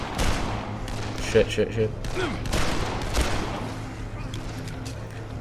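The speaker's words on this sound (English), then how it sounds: "Why are they shooting?" Enemy gunfire from armed attackers in Dead Island: a loud burst of several shots at first, then scattered bangs continuing as a voice swears briefly over it.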